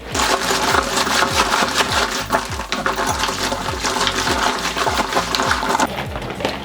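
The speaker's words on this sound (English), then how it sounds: "all that water, you can see, moves around inside the bag and rinses all of the detergent off the clothes." Water sloshing and rattling inside a Scrubba wash bag as clothes are shaken and rinsed, a dense, rapid, continuous churning with rhythmic pulses, close and fairly loud.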